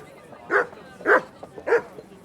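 A dog in the video game Kingdom Come Deliverance 2 barks three times in even succession, fairly close and clear over a low background hum.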